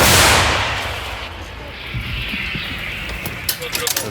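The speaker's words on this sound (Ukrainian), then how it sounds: "Постріл!" An artillery gun fires, a loud booming blast opening, its rumble decaying over a few seconds, followed by faint clanks and movement; voices are present.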